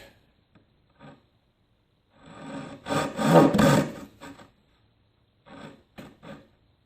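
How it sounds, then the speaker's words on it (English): A hand saw cutting down into a piece of wood clamped in a vise: a few faint, short strokes, then a louder burst of rasping strokes, then more brief scrapes in a quiet room. "we're just going to saw straight down to our mark."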